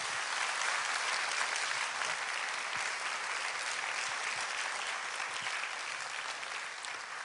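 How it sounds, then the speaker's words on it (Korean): Korean church congregation at an afternoon service applauds to welcome a missionary from the Philippines, a full, even wash of clapping from many hands, sustained and loud, easing slightly toward the end. "박수로 환영하겠습니다."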